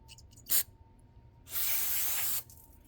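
A short burst of carburetor cleaner spray into the carburetor bowl of a Kohler 6.5 hp wood splitter engine, a pause, then a longer steady hiss of spraying, close by over a faint background hum.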